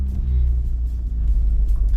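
A light 16-valve car of under 1,000 kilos drives through a residential area, its engine revving with a steady low rumble that stays loud and continuous throughout, with no talking.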